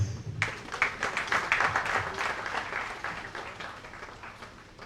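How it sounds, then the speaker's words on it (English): Applause from the audience at a government dialogue event on labour and social security, bursting in abruptly then gradually thinning and fading over a few seconds. "A round of applause, please."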